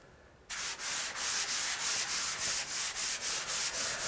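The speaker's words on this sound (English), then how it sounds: "I'm gonna take a 220 grit sanding sponge, and I'm just gonna do a light sand to get that knocked down" A 220-grit sanding sponge rubs lightly over a wood countertop in steady back-and-forth strokes, each pass a close, even hiss with short dips between them.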